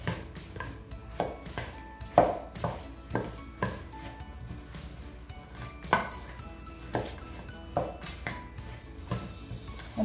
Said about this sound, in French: Et on va bien mélanger aussi.